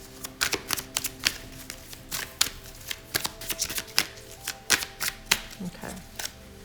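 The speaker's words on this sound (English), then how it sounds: "Okay, one more shuffle." A deck of tarot cards is shuffled close up, giving a quick run of dry riffling and slapping clicks in uneven bursts, with faint low hum underneath and no talking.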